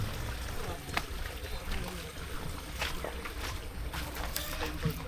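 A bangka boat moves on open water with steady sloshing and wind rush and scattered splashes and knocks, while people talk over it.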